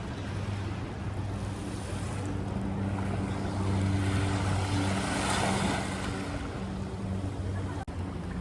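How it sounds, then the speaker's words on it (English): Gentle ocean waves break and wash at Waikiki Beach in a steady, fairly close surf wash, with a low droning hum running underneath and no voices. "enjoy the breaking of the waves and the ripples that are coming through"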